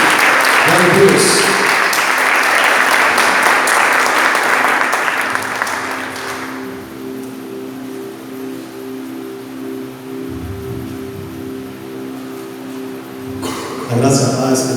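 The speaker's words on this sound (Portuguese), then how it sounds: "Vamos receber uma salva de palmas" A church congregation applauds the preacher at a Sunday service, a loud dense burst of clapping that fades after about six seconds into a low steady hum with a faint organ-like tone.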